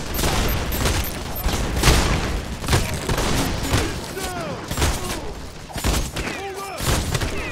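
Repeated gunshots and impacts from The Expendables 2 video game, a steady barrage of sharp cracks and thuds with ricochet-like whines, loud and continuous, with some muffled voices mixed in.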